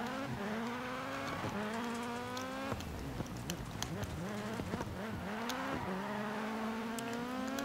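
A 600-horsepower VW Polo rallycross car in DiRT Rally 2.0 screams close up through rising gear pulls, revving high with sharp shifts, crackles and brief dips before climbing again, with no talk.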